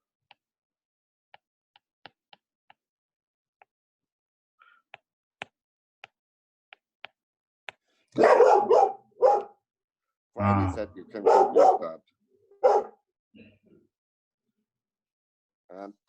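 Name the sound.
dog barking in the background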